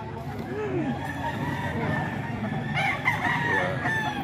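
A Boston Roundhead rooster crows at a busy poultry market, one drawn-out nearby crow over background chatter and clucking from other fowl, with people talking around it.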